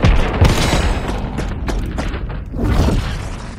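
Video game gunfire erupting in loud bursts, with heavy booming shots and rapid volleys that stay close and dense across the whole stretch.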